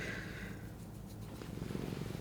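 A cat purring right up close, a steady low rumbling throb that continues without a break, with no talking.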